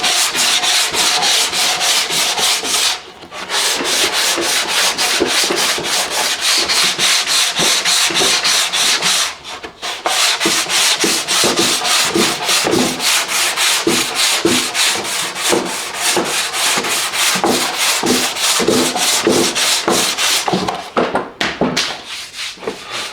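Close, loud sandpaper strokes scrub an LS intake manifold coated in high-build primer with finer-grit paper, in a rapid, steady back-and-forth rhythm broken by two brief pauses.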